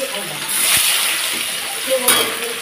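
Garlic dropped into hot oil with green chilies in a preheated wok, giving a steady close sizzle that swells briefly near the start and again toward the end.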